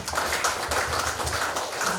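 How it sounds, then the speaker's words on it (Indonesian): Congregation at a Batak Christian church wedding clapping together in a brisk, even patter, moderately distant and filling the hall without pause. "Tepuk tangan dulu untuk Tuhan."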